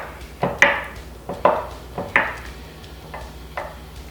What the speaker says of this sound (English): Cut off a little piece here and test it out.